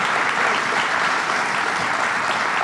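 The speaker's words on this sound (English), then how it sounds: "Let's give Rob Mahika a big round of applause for putting this together." Steady, dense applause from a crowd at a government funding announcement in Brentwood, loud and sustained without a break.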